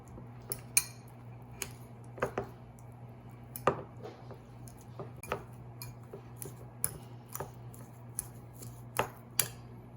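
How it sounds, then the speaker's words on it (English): Two boiled eggs are mashed in a bowl for a bacon and egg puff pastry filling: sharp, irregular clicks and taps of utensil against dish repeat over a faint steady hum, with no talking. "Put the 2 eggs and mash the egg"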